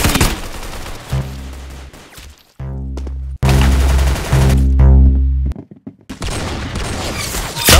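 Rapid bursts of automatic gunfire in the Roblox game Arsenal, loud and close, broken by a few short pauses and sharp booming shots.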